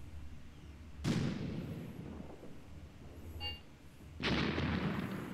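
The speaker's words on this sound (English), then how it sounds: "Definitely sounds like a sniper. And he's shooting at us from a pretty big distance. Could also be mortars." Distant sniper or mortar fire in Graviteam Tactics: Mius Front, heard as two faint, muffled booms a few seconds apart, each fading into a long rumbling tail over quiet ambience.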